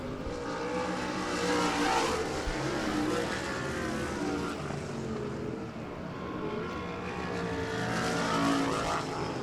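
Race cars roar around a dirt speedway track at a spring nationals night race, a steady, loud engine drone swelling and easing as the pack runs down the back straightaway, with no voices heard.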